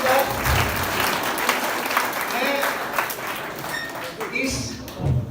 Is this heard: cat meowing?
no